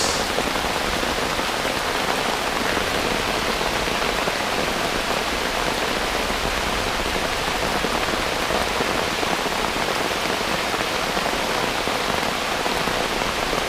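Heavy rain pours down in a forest, a loud, steady, dense hiss of drops on leaves and surfaces that continues without a break and with no voices.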